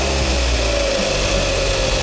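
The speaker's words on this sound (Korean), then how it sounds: "시동을 한번 걸어서 엔진 소리를 한번 들어보겠습니다." A Hyundai Grandeur HG sedan engine idles steadily after starting, a continuous low rumble with a faint whine, heard up close with no talking; the noise is suspected to come from a faulty alternator.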